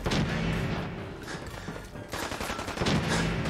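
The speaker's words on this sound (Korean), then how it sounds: "총알 여기까지 날라오잖아 빨리 와." Bursts of gunfire in Fallout 4, rapid volleys of shots at close range that pause briefly midway and then resume, loud with no talking.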